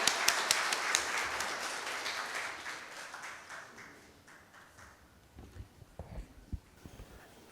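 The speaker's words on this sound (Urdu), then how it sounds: "بہت ساری تالیوں میں, بہت ساری." Audience applause at a book launch, brisk clapping that starts loud and gradually fades over several seconds, followed by a few scattered taps and light knocks in a quieter hall.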